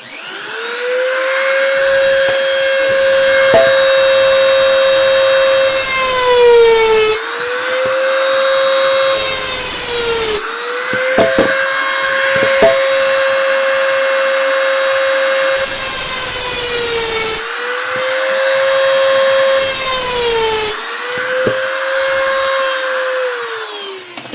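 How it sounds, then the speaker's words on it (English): A Dremel rotary tool cuts a small cross into a slippery stainless steel surface, giving a loud, steady high-pitched whine in several long passes that dip and rise between short breaks. "I've just used a Dremel there and I've put a little cross in it"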